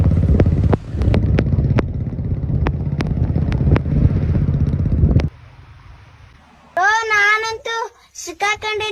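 Motorcycle ride in the rain near Malvan, a steady low engine rumble with wind buffeting and sharp ticks, then dropping to a quiet hum before voices break in.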